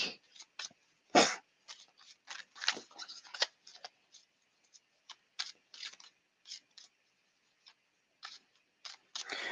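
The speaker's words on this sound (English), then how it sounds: "while I shuffle the deck." Deck of tarot cards being shuffled by hand, a series of short crisp riffles and taps in irregular bursts, close and fairly quiet, with brief pauses between.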